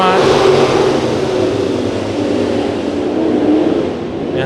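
Sport mod race cars roar off at the start of a heat race at Santa Maria Raceway, a loud dense wall of engines revving together, with a faint announcer voice underneath.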